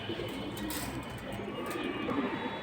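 Pigeons at a pigeon sale in Bangladesh, including Silver Hammer birds, give soft, low cooing calls. The coos are faint and murmur under a voice and background room noise.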